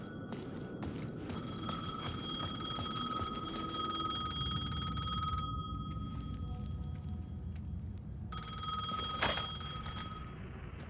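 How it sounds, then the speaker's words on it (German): A payphone rings in the horror video game Alan Wake 2, steady repeating electronic trills over a low rumbling ambience, with a brief pause before the ringing resumes. "Das Münztelefon läutete. Ich hatte das Gefühl, der Anruf galt mir."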